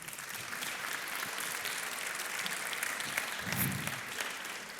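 An audience at an evening mentoring event applauds as a guest comes on stage, a steady, moderately distant wash of clapping with a brief low murmur near the end.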